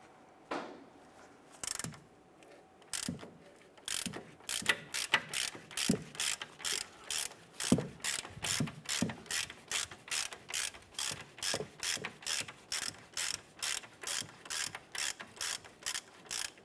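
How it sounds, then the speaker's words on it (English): Ratchet with a 21 mm socket loosening a nut on the upper control arm of a 2015–2020 Cadillac Escalade: a long, even series of sharp pawl clicks, close up, settling into a regular rhythm with no voices. "Using a 21 millimeter socket, let's go ahead and loosen the nut."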